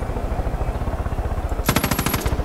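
Machine gun fire in Far Cry 5 near a Valkyrie helicopter, a rapid rattling burst that grows louder partway through, rhythmic and close, over steady engine drone.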